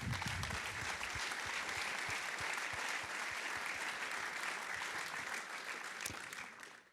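Sustained audience applause at a performance event, dense steady clapping filling the room for about seven seconds before starting to thin slightly at the end.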